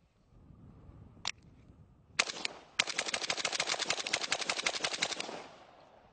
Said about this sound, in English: I'm going to fire about 10 rounds in this 8-inch circle here at about 10 yards.